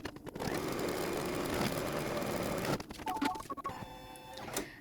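An embroidery machine stitches rapidly, a steady buzzing, motor-driven whir as it tacks border fabric onto a pillow wrap, then stops briefly and resumes with lighter, intermittent mechanical chirps.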